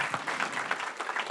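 Applause welcoming a speaker at a summer school event: a brief burst of clapping from a gathered audience, fairly soft and distant, with scattered individual claps audible.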